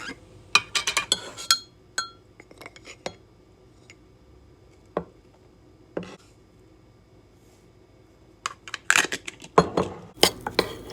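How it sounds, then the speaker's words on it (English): A utensil mixes cake-style batter in a bowl, giving scattered sharp clinks and taps against the bowl, quiet stretches between them and a busier cluster near the end. "I mix this kind of like a cake batter."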